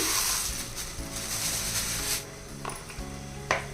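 Skin-on country chicken sizzles loudly in a hot pot, a steady frying hiss that eases midway, with a couple of light metallic clinks.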